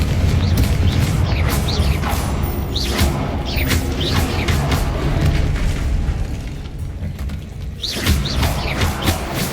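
Repeated fiery blasts from the Confringo spell in Hogwarts Legacy, a series of heavy booms and crackling impacts with rumbling low end in a busy combat scene, pausing briefly before another burst near the end.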